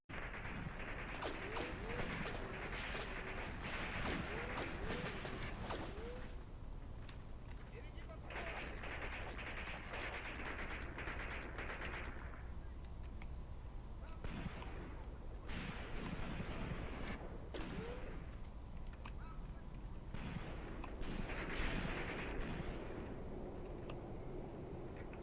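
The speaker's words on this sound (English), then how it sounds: "Machine gun firing from over here somewhere?" Machine gun and artillery fire in a WWII tactical war game, bursts of rattling shots and booming blasts repeating throughout over a steady rumbling battlefield backdrop, with a voice talking now and then.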